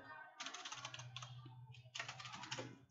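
Typing on a computer keyboard in a word processor, a fast run of clicky keystrokes in two bursts with a short pause between, close and fairly loud, with a low steady hum underneath.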